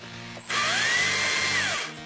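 A small, lightweight battery-powered chainsaw with a short bar revs up and runs steadily for over a second with a rising and falling whine, then winds down; close and fairly loud, with no talk.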